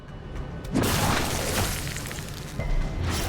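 Corpse Explosion skill from a modded Darkest Dungeon battle: a loud, booming blast with a crunchy burst of debris that sustains for a couple of seconds, then a second impact swells near the end.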